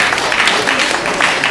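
A brief burst of applause at a japa retreat gathering, close and steady clapping filling the moment without pause.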